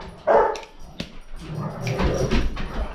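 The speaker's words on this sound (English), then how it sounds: "I'm sorry about the dogs in the background." Dogs bark and yip in the background, a few short distant barks and whimpers among room noise, no one talking.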